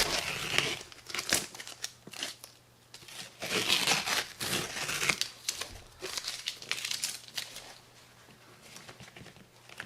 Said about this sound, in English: we'll go ahead and take off the tape